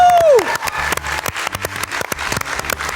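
Studio audience applause on a French game show: a brief falling whistle-like tone opens, then scattered, uneven claps and light crowd noise continue at moderate volume.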